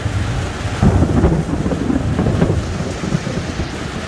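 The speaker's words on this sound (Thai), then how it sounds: "ตอนนี้ก็รอให้ฟ้า ฟ้ามันหยุดร้อง" Rumbling thunder rolls through a heavy thunderstorm, low and continuous with louder swells, over steady rain with no voices.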